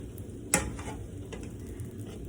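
Cooked Puerto Rican rice with vienna sausages is stirred in a pot, a soft, scraping sizzle with one sharp knock of the spoon against the pot near the start, close by and quiet.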